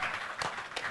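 A brief, dense wash of applause for guest judge Adira on a Malay Raya-season entertainment show, steady and moderately loud across its short length with no voices over it.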